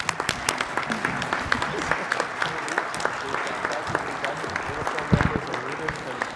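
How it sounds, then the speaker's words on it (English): A union regional council crowd breaks into loud, dense applause that holds throughout, with crisp close claps and a few voices murmuring underneath. "Let's give a hand of applause for Gavin McGarrigle."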